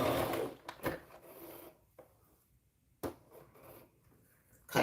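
A domestic sewing machine back stitching the seam end of tiny preemie shorts, giving a few short bursts of stitching separated by quiet pauses.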